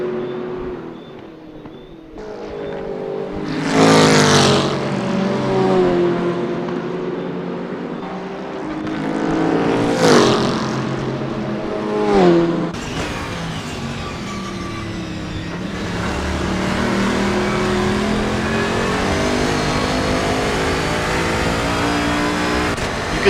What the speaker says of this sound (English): You can hear how heavy this car is to get back on the power through the mountain section on the climb.